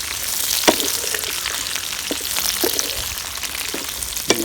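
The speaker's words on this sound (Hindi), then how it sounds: "भिंडी शामिल करेंगे। अच्छी तरह भिंडी को हिलाते जाएंगे।" Okra sizzling and frying in oil in a wok, a dense continuous crackle close up, with occasional sharper clinks and scrapes from stirring.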